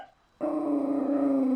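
A dog indoors giving a sudden, loud, sustained growling bark after a moment of near silence, close to the listener and holding steady to the end.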